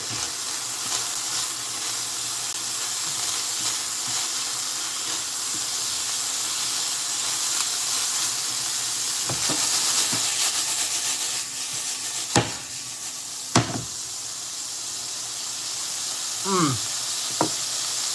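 Beef frying in a pan alongside cheesy Buldak ramen, giving a continuous moderate sizzle with a few sharp scraping or stirring knocks and a short squeaky sweep near the end, no talk over it.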